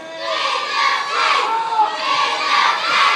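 A large wrestling-show crowd at Brean Sands shouts and roars together in rising and falling waves of voices, loud and sustained, like an arena audience chanting and yelling.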